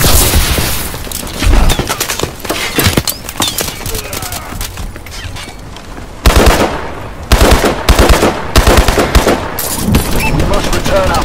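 Call of Duty Advanced Warfare capture-the-flag gameplay is filled with dense, loud automatic gunfire and rapid shots, layered with game announcer voices and other battle noise throughout.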